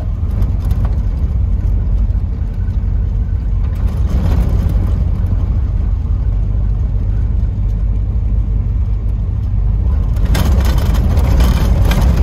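Car rolling along a dirt road, a steady loud engine drone and tire rumble close inside the cabin, with a few louder crunching surges.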